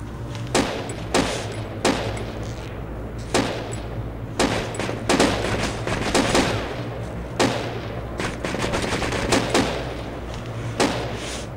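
Gunfire in the Project Reality military shooter on a Fallujah map, with loud, close rifle shots in uneven bursts and single cracks over a constant low rumble.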